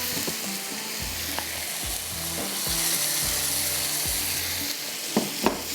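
Oil sizzles steadily in a pan over high heat as Irani kabab ingredients are fried with green coriander and green chilli, with a few spoon scrapes and clinks over the constant crackle.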